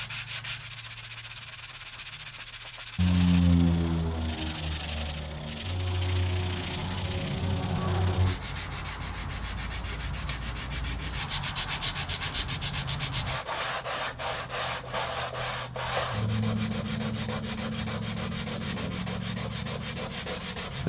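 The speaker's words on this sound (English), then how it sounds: "That was a ridiculous amount of sanding." Sanding of wooden acoustic guitar braces shaped to an exact radius, a long steady rasping rub with strokes that shift in pitch and pace, loud and close with no voices.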